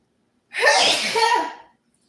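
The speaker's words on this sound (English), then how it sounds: "Excuse me, I want to sneeze." A single loud, close sneeze bursts out sharply and trails off after about a second, with no talking around it.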